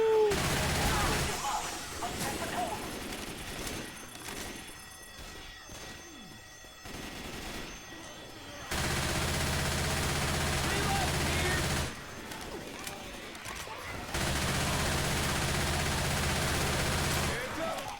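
Players shoot in a chaotic multiplayer video game, making sustained, dense bursts of gunfire with rapid automatic rattling and sharp cracks that come in long loud stretches, while people talk over the shooting.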